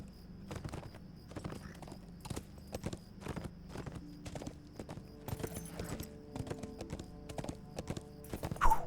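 Armored horse from the online game The Lord of the Rings Online galloping through the Shire, a steady rapid clip-clop of hooves running throughout under game music, with a brief whinny-like sound near the end.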